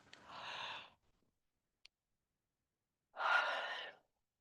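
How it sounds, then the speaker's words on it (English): A person yawns twice: a long breathy exhale, a pause with a tiny click, then a second drawn-out breathy yawn, close and quiet. "The last breath, well, it's not really a breath, it's a reflex. A yawn."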